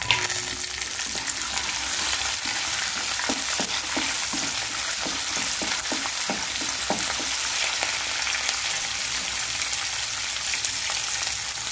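Garlic and green chilies frying in hot oil for a poha chivda mixture, a dense continuous sizzle with a run of sharp pops and spits in the middle, close and without talk.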